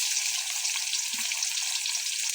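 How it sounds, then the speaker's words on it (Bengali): Potatoes deep frying in hot oil in a kadai for biryani, a steady hissing sizzle throughout at a moderate level, alone with no talk. "এখন আলুগুলো ভাজা হচ্ছে।"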